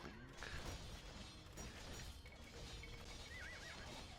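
Horses neigh and whinny repeatedly in an Age of Empires 2 battle, with clip-clop of hooves and faint clashing effects in a dense, continuous game mix.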